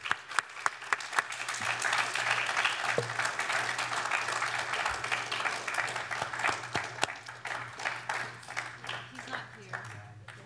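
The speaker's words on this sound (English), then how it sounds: "Let's have a round of applause." Applause from an audience at a student sustainability awards ceremony, beginning with a few sharp individual claps that swell into sustained crowd clapping, fairly distant in a hall, then thinning toward the end with a low hum underneath.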